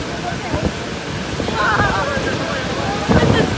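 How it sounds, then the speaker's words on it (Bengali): Strong wind buffets and roars steadily at Niagara Falls, with water sounds beneath and a voice speaking intermittently through the gusts. "এত হাওয়া হচ্ছে যে আপনাদের সঙ্গে মানে কথা বললেও বোঝা যাচ্ছে না"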